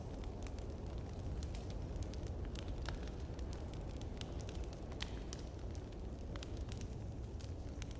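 Campfire crackling at a rest site in the video game Slay the Spire: a steady low fire roar with frequent sharp crackles and pops scattered throughout, fairly quiet and continuous.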